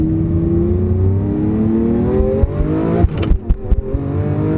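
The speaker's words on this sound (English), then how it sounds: "So we're gonna go ahead and put the car into Corsa, where the shifts are extremely brutal." A Lamborghini Aventador in Corsa mode accelerates hard, its engine note climbing steadily and close, then broken by sharp, abrupt gear-shift thumps and crackles in quick succession.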